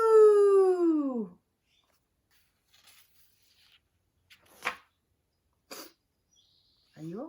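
A person sneezes a few times in short, sharp bursts between quiet stretches, close and fairly loud, with a brief voiced sound at the start and end.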